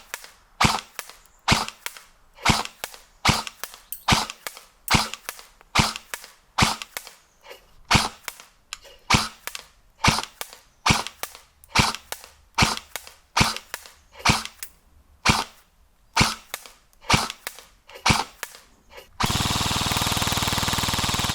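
An aged airsoft gun fires repeated single shots in a 100-foot accuracy and range test, each crack sharp and fairly close, spaced roughly a second apart, with a burst of steady hiss at the end.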